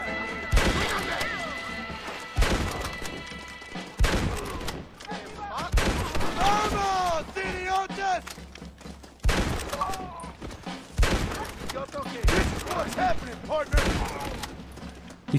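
Gunfire in the Western video game Red Dead Redemption: repeated loud shots and bursts at irregular intervals, mixed with crashes and game music, while voices talk over the action.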